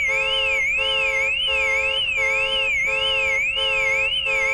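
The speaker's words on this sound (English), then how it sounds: "Set the alarm off though. Wow, that's noisy." A loud electronic car alarm in a car dealer simulator video game wails continuously, a warbling tone sweeping up and down in a steady repeating cycle with pulsing beeps, and no voices.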